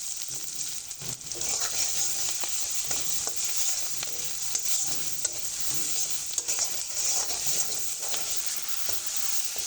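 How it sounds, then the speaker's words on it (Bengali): Chopped garlic, green chili and onion fry in a pan for a taro-greens dish, a loud continuous sizzle with repeated stirring scrapes and clinks throughout, close and unbroken. "ঝাল পেঁয়াজটা আমি খুব ভালো করে ভেজে নিয়েছি"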